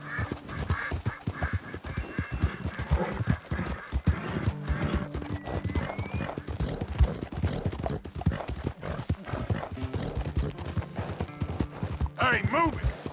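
Horse hooves clip-clop steadily under a ridden horse in Red Dead Redemption 2, with game music, voices talking over the hoofbeats and a brief whinny near the end.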